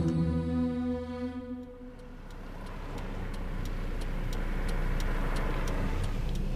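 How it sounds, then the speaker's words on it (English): Steady low engine rumble and road noise from inside a moving car heading to Porirua, with a faint regular ticking like an indicator over the drone; no talk. "I'm in the car on the way to Porirua."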